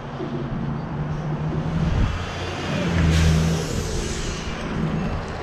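Cars pass by on a road, their broadband whoosh swelling twice as vehicles go past, over a steady background of traffic rumble.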